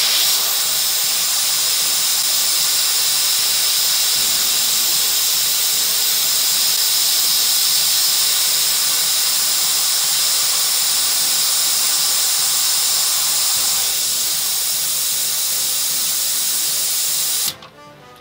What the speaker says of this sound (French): soit vous allez perdre un peu de gaz lorsque vous allez remplir